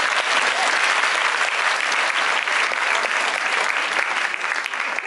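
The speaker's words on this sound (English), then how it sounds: "Hey, give a round of applause for her." Audience at a fan convention panel with actors David Haydn-Jones and Jason Manns breaks into loud, dense applause that holds steady throughout and thins slightly near the end.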